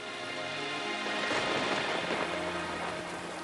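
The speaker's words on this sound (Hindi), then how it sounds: "बाहर बारिश हो रही है।" Steady rain falls without a break, a soft, even hiss of drops spreading across the whole clip.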